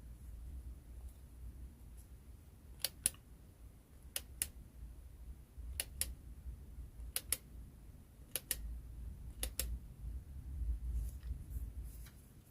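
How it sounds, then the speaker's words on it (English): A Lumina Flex R-shaped hand grip counter gives sharp, isolated clicks, often in quick pairs, at a steady spaced rhythm over a low background hum. "A click sound is made on each successful grip, and the counter registers each click made."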